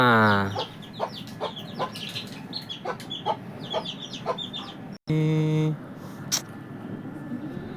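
A hen clucks in short repeated bursts close by, with faint high peeps from her four chicks; a person briefly speaks partway through.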